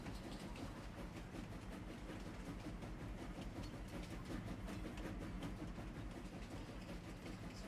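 A train engine runs steadily in Farming Simulator, a continuous low rumble with faint rhythmic rail clatter, moderately quiet and alone throughout.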